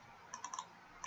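A computer mouse gives a quick run of light clicks, four close together and then one more after a short pause, crisp and near against a quiet background.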